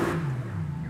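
Stock engine of a 2021 Bentley Continental GT Convertible revving in a video game, a steady low droning roar held for under a second with no voices.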